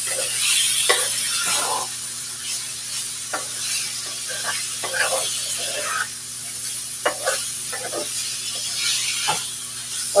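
Seafood fried rice sizzles steadily in a hot pan while a utensil stirs and scrapes through it in repeated strokes, loud and close throughout.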